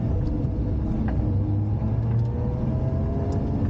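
A Lotus Emira V6 with a manual gearbox accelerates on a track while being worked up into fourth gear. Its engine gives a steady, low, rumbling drone heard from inside the cabin.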